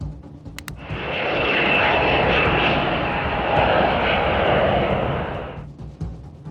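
An Airbus airliner's engines roar up loud and close for takeoff during an engine failure test, a broad sustained rush that builds, holds for several seconds, then cuts off.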